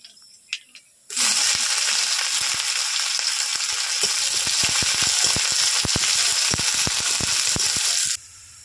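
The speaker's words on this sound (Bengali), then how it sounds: "ফোড়নটা ভাজা হলে দিচ্ছি পেঁয়াজ কুচি।" Chopped onion dropped into hot oil with black cumin, dried chilli and bay leaf for a kofta curry, erupting into a loud, dense sizzle with crackling pops that runs steadily for about seven seconds, then cuts off.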